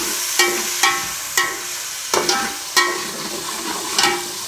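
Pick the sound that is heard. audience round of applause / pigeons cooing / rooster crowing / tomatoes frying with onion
tomatoes frying with onion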